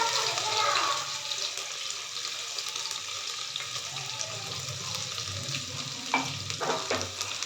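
Ground ginger-garlic paste sizzles in a pan over low heat, a steady crackling fry with faint water-like hiss and occasional stirring clinks, heard alone without voices.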